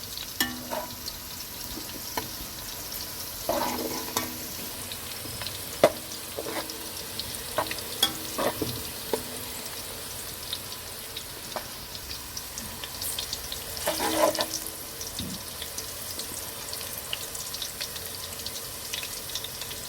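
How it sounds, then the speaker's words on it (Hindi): Onions frying in a pan toward dark brown, a low steady sizzle with intermittent spoon scrapes and clinks against the pan, moderately quiet and close. "इसको अब हम फ्राई करेंगे ज़रा डार्क ब्राउन"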